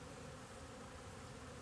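Honey bees hover in figure eights on an orientation flight before a hive entrance on a mild December day near Topeka, Kansas, a faint, continuous buzz of many wings.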